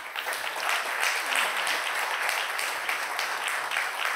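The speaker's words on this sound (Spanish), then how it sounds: "Sí que también ellos merecen un aplauso" A church congregation applauds a discipleship group, a continuous even roar of many hands clapping together throughout, fairly loud with no talking over it.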